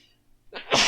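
A single sudden sneeze from a person with a dust allergy, a sharp breathy burst close to the microphone after a brief quiet lead-in.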